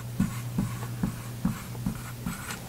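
Marker or chalk strokes on a board tap and scrape in a quick rhythmic series of about six firm strokes, close by and alone.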